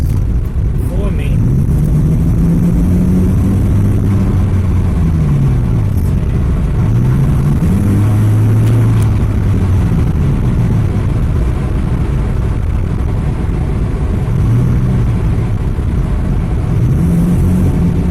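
A car engine, freshly fitted with new spark plugs and an ignition coil, drones and rises and falls through gear changes on a tunnel run, loud and sustained with steady road noise underneath.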